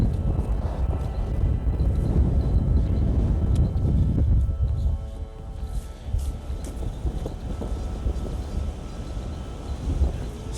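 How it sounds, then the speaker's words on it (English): Wind blows hard across a microphone outdoors during metal detecting on a Roman road, a loud continuous low rumble and buffeting that eases slightly midway. "Oh, this wind has really picked up."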